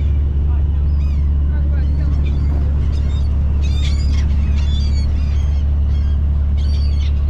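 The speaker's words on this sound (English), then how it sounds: "trying to hit the birds" Gulls and other seabirds cry and squawk in bursts near a commercial shrimp boat, heard over a steady low engine drone with people talking nearby.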